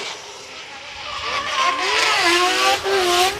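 A 3-rotor Mazda RX-7 FD3S drift car howls past during Formula Drift Japan qualifying at Ebisu Circuit West Course, engine pitch climbing and falling under loud tire squeal, heard from trackside.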